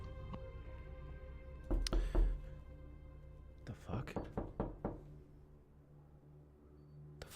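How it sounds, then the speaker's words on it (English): Sharp knocks sound close by: a pair of thuds, then a quick run of about five knocks a moment later, heard over a quiet background hum while someone talks. "Something's knocking."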